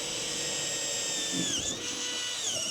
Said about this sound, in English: We're going to drill this. Now your 5mm.